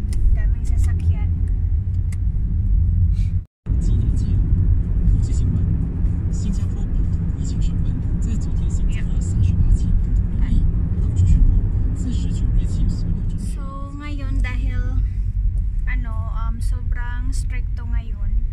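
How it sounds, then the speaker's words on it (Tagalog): Road traffic in Penang during a lockdown: a steady, close rumble of many cars passing, with voices joining faintly near the end. "Daming sasakyan."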